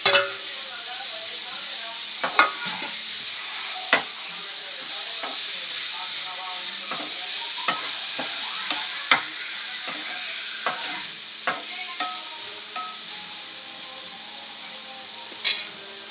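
Broccoli and tomato masala curry cooking in a pan, a steady sizzle and hiss throughout with scattered sharp clinks and scrapes of a spoon stirring, close up, with a faint voice in the background.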